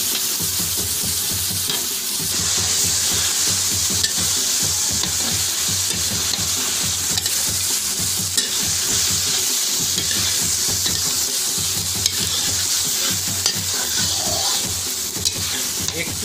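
Potatoes and young jackfruit sizzle loudly in spiced chicken masala, frying hard in a pan while a spoon stirs and scrapes through the pieces in quick, continuous strokes.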